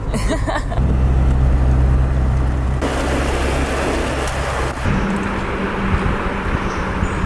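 Camper van rolling downhill on a mountain road in the Spanish Pyrenees, with loud, steady engine and road rumble heard from inside the cab and a shift in tone partway through.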